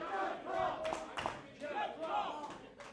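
Wrestling crowd at a Premier Championship match cheering for Jeff Cobb, loud rising shouts and roars in bursts with a commentator talking over them.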